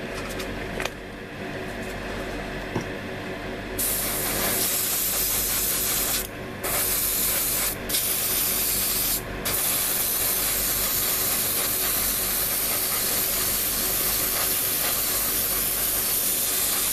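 Mr. Hobby 182 flat clear coat sprayed from an airbrush onto a Revell 1:144 Su-27 Flanker model kit, a steady close hiss that runs nearly throughout with a few brief pauses.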